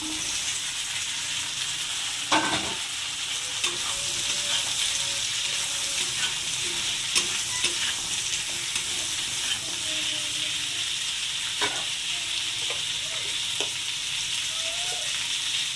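Ridge gourd, tomato and green chilli fry in hot oil in a pan for a rohu fish curry with potatoes, a steady close sizzle running throughout, broken by a few scraping knocks of a spatula stirring.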